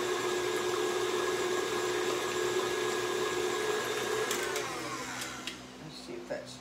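An electric stand mixer whirs steadily as it beats buttermilk pie filling in a bowl, a constant motorized hum with whining tones that winds down near the end as a person talks over it.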